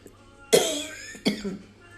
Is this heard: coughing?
yes